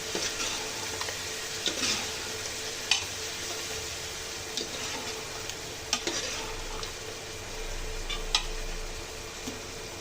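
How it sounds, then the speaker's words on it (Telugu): Chicken coated in masala cooks in a pan for biryani, giving a soft continuous sizzle punctuated by occasional spoon knocks and scrapes as it is stirred. "ఈ మసాలా అంతా చికెన్కి బాగా పట్టేంత వరకు కుక్ చేసుకుందాము."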